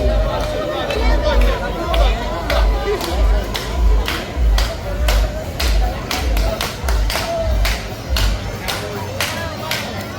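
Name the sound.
people clapping at Global Village Dubai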